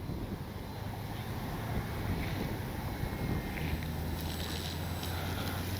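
Constant wind buffeting the microphone with a low rumble, steady and loud outdoors, with the faint motor whine of a HobbyZone Carbon Cub S2 RC plane in the background.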